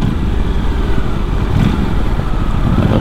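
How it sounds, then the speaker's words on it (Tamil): Aprilia RS 457 motorcycle engine and exhaust, a steady loud low rumble that holds throughout with a slight swell midway, no voices over it. "குரு குரு குருன்னு செம்மையாக இருக்குது sound, exhaust noise, engine sound"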